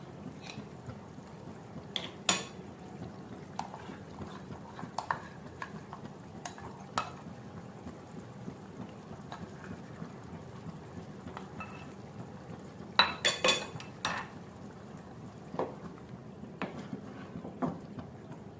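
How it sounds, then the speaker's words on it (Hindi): A spoon stirs yogurt masala into chicken curry in a pot, giving sparse metallic scrapes and clinks over a faint low simmer, with bunched taps near the middle and otherwise quiet gaps. "मिक्स कर दें अच्छी तरह से।"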